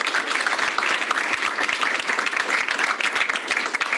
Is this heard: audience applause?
yes